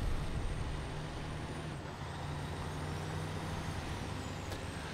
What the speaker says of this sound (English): So this truck's done a pretty good job.